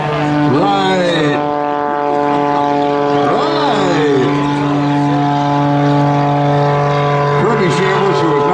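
Kirby Chambliss' aerobatic airplane takes off at an air show, its propeller engine droning steadily and loud throughout with a strong harmonic hum, while someone talks over it and smoke trails from the plane.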